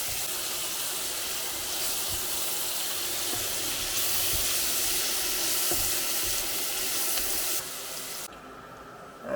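Vegetables sizzling and frying steadily in a pan, seasoned with ground black pepper, a constant hissing crackle with occasional soft pops, fairly loud and close.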